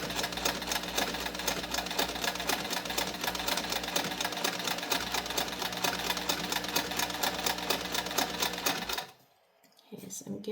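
A home sewing machine stitching fabric nursing pads runs at a steady, fast mechanical rattle for about nine seconds, then stops abruptly, leaving a soft rustle near the end.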